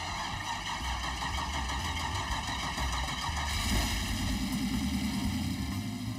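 A restored antique car engine runs with a steady droning idle that swells slightly partway through, heard close and continuous with no other sounds.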